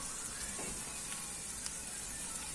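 Simit bread fries in a shallow layer of oil in a pan, giving a soft, steady sizzle with faint crackles, quiet and close.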